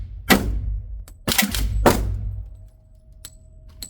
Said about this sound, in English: So let's shoot it some more.